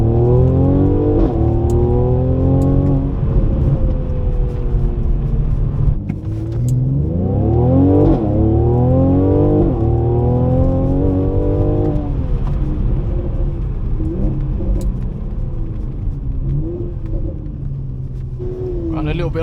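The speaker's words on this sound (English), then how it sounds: "even if you just feather it and let go, look at that, you're guaranteed to get your pops and bangs" A Mercedes C43 engine revs repeatedly from inside the cabin, rising and falling in loud sweeping surges, with sharp crackling exhaust pops when the throttle is feathered and released, while someone talks over it.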